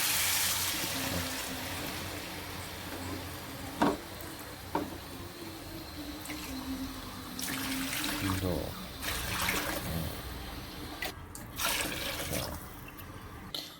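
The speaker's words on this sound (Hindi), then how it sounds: "इसमें मैं तकरीबन 4 गिलास गर्म पानी के शामिल करूँगा।" Hot water poured from glasses into a pot of hareesa with meat, a few separate trickling pours with short pauses and clinks between them, fairly quiet in a home kitchen.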